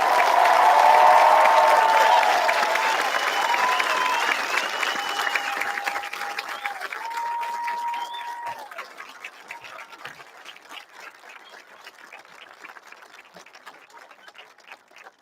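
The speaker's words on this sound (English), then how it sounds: "Let's have another enormous round of applause for our class of 2022." Graduation audience for the class of 2022 gives a big round of applause with scattered cheers and whoops, loud at first and then slowly thinning out over about fifteen seconds, with a voice briefly over it.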